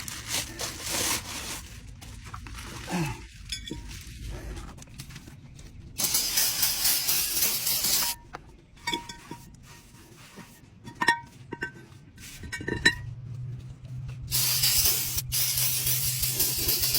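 Brake cleaner sprays in hissing bursts onto greasy rear brake parts of a 2008 Chevy Suburban, with several loud, broad blasts separated by quieter workshop clinks and rubbing, close up.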